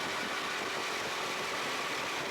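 A racing kart engine runs steadily with a continuous droning hum and rumble, fairly loud and unbroken, with no voices.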